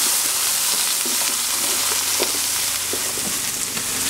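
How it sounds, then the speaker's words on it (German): Leek and vegetables roasting in a pan on a kettle grill, a loud, continuous frying sizzle with scattered crackles and pops, close up with no talking. "Rösten wir kurz mit an."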